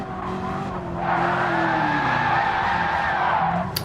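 Modified race cars on a track, a loud engine roar swelling past with squealing tyres through a corner, sustained and close before easing off.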